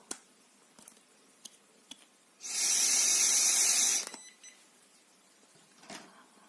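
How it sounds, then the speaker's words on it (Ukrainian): A short, weak puff of breath blown into an Alcoscan AL-8800 electrochemical breathalyzer gives a steady broadband rush lasting about a second and a half, with faint device clicks before and after it. "Подуємо недовго."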